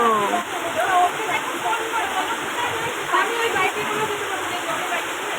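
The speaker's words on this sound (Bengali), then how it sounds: "একদম বৃষ্টিতে অনেকক্ষণ ধরে, প্রায় আধ ঘন্টা হয়ে গেছে না বৃষ্টি হচ্ছে।" A dense, continuous roar of heavy rain drenches the ground as floodwater rushes and sloshes close by, with a person speaking faintly under the downpour.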